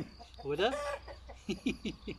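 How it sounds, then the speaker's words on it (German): A rooster crows once, a strained rising call, followed by a few short clucks; a person speaks briefly nearby. "Aber da kommt der alte Hahn"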